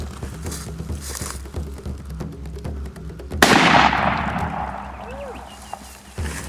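A rifle shot cracks loudly once during a water buffalo hunt in Australia's Northern Territory, with a long decaying echo through open country, followed by a faint later pop and voices talking before and after.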